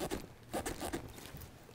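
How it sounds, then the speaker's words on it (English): Zipper on a soft Makita tool bag for a hammer drill combo kit, pulled in several quick, quiet rasping strokes close by. "I'm not loving the zipper."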